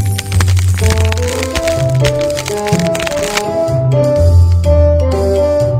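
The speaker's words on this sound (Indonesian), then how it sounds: "Kocok kompres es untuk mendinginkannya." Cartoon instant ice pack being squeezed and shaken, giving crisp crackling and rattling over a bright musical background, with rapid repeated crunches throughout.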